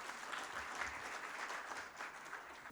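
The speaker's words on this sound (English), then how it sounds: "a huge round of applause for Mr. Angelo Mauricio" Steady applause from an audience at a conference session in New Delhi, a continuous wash of clapping heard at a distance, fairly faint and even throughout.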